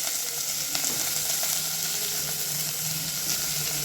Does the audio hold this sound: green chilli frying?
yes